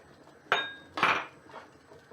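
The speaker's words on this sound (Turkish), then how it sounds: "Böyle karıştırıyorum" Two or three clinking scrapes of a utensil against a pot while stirring ashure with chopped figs, spaced about half a second apart, the middle one loudest.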